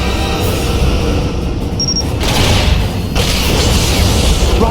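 A destroyed Romulan ship exploding in the Star Trek Legacy space game, loud booming blasts with a brief electronic tone and a second burst of crashing noise following, no speech over it.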